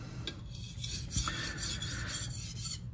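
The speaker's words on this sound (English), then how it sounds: "You will also hear as I work the stone, the sound changes." Steady, continuous rasping of a blade being worked back and forth across a sharpening stone, close and moderately loud, with a slight change in texture partway through and no talking.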